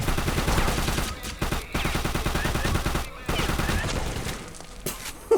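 Sustained automatic gunfire in the game Secret Service, with rapid, dense shots that are loud and continuous and broken by a few brief pauses. Voices can be heard underneath at times.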